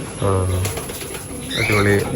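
A red stencil homer pigeon coos twice in soft, low, throaty bursts at close range, separated by a brief pause.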